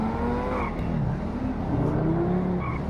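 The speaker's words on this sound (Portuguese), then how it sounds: "Se acelera um pouquinho, mano, o carro já vai, galera." An SSC Tuatara hypercar in GTA V, engine revving and accelerating with a rising whine and faint tire squeal, loud and continuous without talk.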